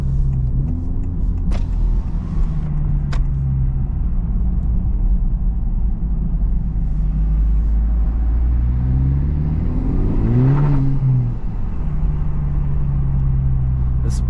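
A Honda Civic Type R FL5 with its turbo engine drones steadily from inside the car while driving on a country road, with a brief rise and fall in revs near the end.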